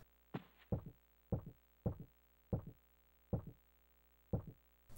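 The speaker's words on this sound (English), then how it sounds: "Oh, knock at the door." Door knocking inside the video game Clock Tower: separate knocks in a steady sequence of about seven over five seconds, each with a dull low thump and a short decay, heard near and clear with no talking.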